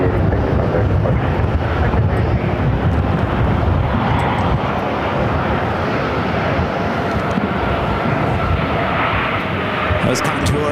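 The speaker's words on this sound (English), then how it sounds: "That was Contour heading to Sholo, Arizona, flight 3386, and Embraer ERJ-135ER." An Embraer ERJ-135ER jet taking off at Phoenix airport gives a loud, rumbling roar mixed with wind buffeting, steady throughout and heard from outside at close range.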